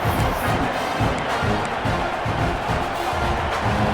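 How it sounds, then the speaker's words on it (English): Loud, dense crowd roar filling a video game stadium, a constant rumbling wash of cheering voices with no breaks. "listen to this crowd noise. This stadium is vibrating."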